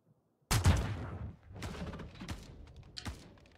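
A sniper rifle shot in Star Citizen cracks out sharply after silence, then several fainter thuds and rattling reports follow over a few seconds.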